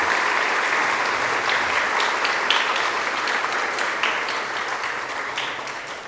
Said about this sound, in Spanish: Felicitémoslos con nuestro aplauso.